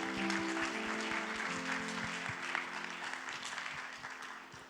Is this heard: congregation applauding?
yes